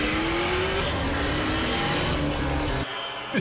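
A vehicle engine from a TMNT cartoon episode revs loud and steady, its rising whine climbing in pitch, then cuts off abruptly near the end.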